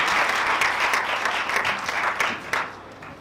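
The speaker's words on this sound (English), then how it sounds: "A huge round of applause for the association." A room full of people at an alumni association event applauds in a lively round of clapping that gradually thins out toward the end.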